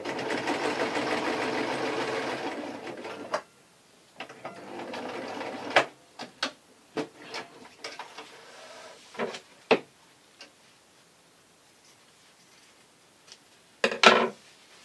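A sewing machine runs a continuous stitching burst for about three seconds while sewing a French seam in taffeta for a baby's party dress, then gives a shorter run followed by scattered clicks and handling knocks.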